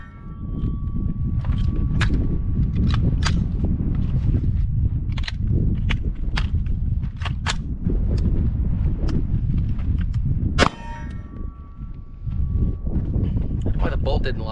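Rifle shots ring out one after another as a shooter turns from a standing position outdoors, a dozen or so sharp cracks spaced a second or so apart over constant wind noise, with one louder shot near the end.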